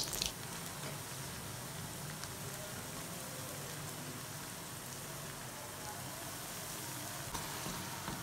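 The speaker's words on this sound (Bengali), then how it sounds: "বড়াগুলোকে আস্তে আস্তে ভেজে নিতে হবে।" Crispy South Indian lentil vadas fry in oil with a steady, even sizzle that sounds like light rain, continuous and fairly soft throughout.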